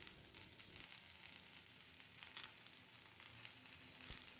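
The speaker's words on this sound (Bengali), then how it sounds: "এইভাবে পেঁয়াজ কলিগুলো ভাজতে থাকবো আলু ফুলকপির সাথে" Onion flower stalks fry in a pan with potato and cauliflower, giving off a soft, steady sizzle with faint stirring and no voices.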